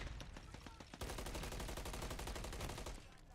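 Fast, dense bursts of automatic gunfire in an online shooter game, loud and continuous rattling shots lasting most of the moment, rising into a heavier sustained volley before tapering off.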